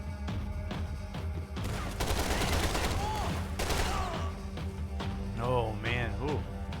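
Sustained RPK machine gun bursts in the video game Max Payne 3 crackle loudly for a couple of seconds amid game effects, then give way to quieter scattered shots and whooshing sounds, with a voice talking over the action.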